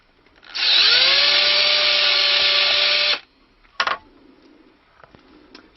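A power drill bores a hole in a wooden stick dulcimer with a loud, steady whine lasting about two and a half seconds, then a short second burst before quiet.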